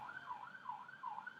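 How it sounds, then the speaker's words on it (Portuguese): Ambulance siren wailing in a steady up-and-down rise and fall, fairly close and continuous, with no voices over it. "uma ambulância aqui agora."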